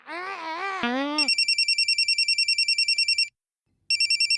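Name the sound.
telephone ringing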